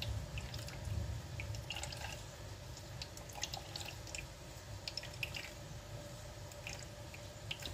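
Water dripping and trickling from grated cassava squeezed through a cloth, a continuous wet patter with soft squishing, close and fairly quiet, with no voices.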